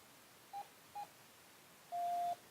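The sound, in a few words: FrSky G-RX8 receiver beeping continuously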